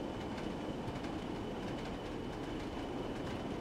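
A vacuum-braked train on the Northern Trans Pennine route in Train Sim World 3 gives off a steady, low rumble with faint rhythmic clatter as it slows. The sound is continuous and fairly quiet, with no voices.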